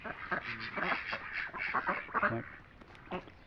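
Several ducks quacking close by at a pond in a lively, overlapping chorus of nasal calls, tapering to a few scattered quacks.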